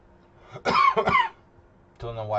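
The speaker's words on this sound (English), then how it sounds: "Don't know why I have coughing" A person coughs twice in a quick, close burst, then speaks briefly after a short pause.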